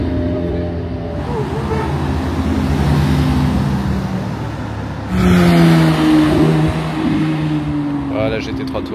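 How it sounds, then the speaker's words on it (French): A Jaguar F-Type V8 passing on a Monaco street, its engine rising into a loud, close roar that swells sharply midway, with someone talking over it. "la F-Type V8 derrière, le son que ça fait ça"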